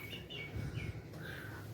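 A pigeon gives soft, faint calls, with a few brief chirpy notes over quiet low background noise.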